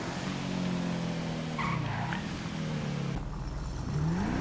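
A super speed car in GTA 5 drives with a loud continuous engine drone, tires squealing and skidding in the middle, then the engine revs up again at the end.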